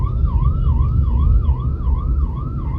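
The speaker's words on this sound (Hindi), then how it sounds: "पीछे एम्बुलेंस आ रही है" An ambulance siren wails close and loud through Delhi traffic, its rising and falling tone cycling steadily over a low rumble of engines.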